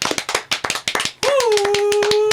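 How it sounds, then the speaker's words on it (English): Several people clap their hands in a quick, uneven burst of sharp slaps that continue as a steady tone rises underneath partway through, close and fairly loud. "We're clapping, guys."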